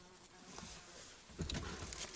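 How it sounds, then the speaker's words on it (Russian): Flies buzz around a campsite on a hiking trip, a faint, thin whine that drifts nearer and louder partway through, with no voices. "Мухи, блядь, заколебали уже."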